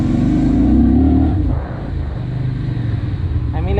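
A Keeway K Lite V 250 motorcycle engine hums at steady revs in second gear on a small tarmac road, loud and close, with wind rush and a slight drop in pitch partway through.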